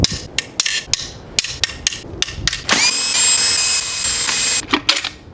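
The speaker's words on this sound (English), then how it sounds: "Let's see if I can run these 10 mils off." A power tool breaks loose tight 10 mm bolts on the main bearing area of a Chrysler Pentastar engine. Sharp clicks and knocks come first, then a sustained whirring tool run, then more light clicks.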